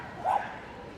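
A single short bark from an 8-year-old Patterdale terrier bitch at an agility championship event, brief and mid-distance over an arena crowd murmur.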